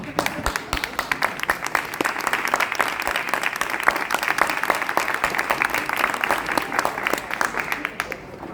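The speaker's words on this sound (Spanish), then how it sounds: "creo que se merecen un aplauso muy grande" Sustained applause from an audience at a book presentation in Ibiza, dense rapid clapping filling the whole stretch at steady loudness with a slight fade at the end.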